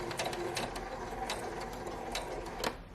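A sewing machine stitches a fabric face mask, giving a steady close-up mechanical whir with regular rhythmic clicks of the needle that run without a break.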